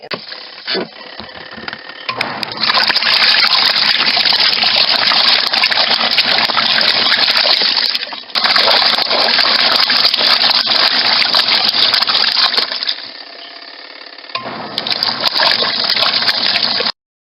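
Water gushes loudly and steadily as a washing machine rinses clothes, a continuous rushing flow that briefly cuts out twice and drops lower before resuming near the end.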